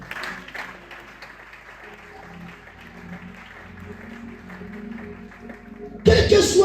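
A church congregation claps during a Sunday service, the steady applause blending with voices and sustained music before swelling into a loud burst at the very end.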